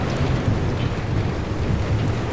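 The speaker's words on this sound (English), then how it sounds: "Oh, I think those are actual lightning strikes." Rolling thunder from lightning strikes in the video game Pacific Drive, a dense, steady low rumble mixed with rain-like hiss, continuous and fairly loud throughout with no talking.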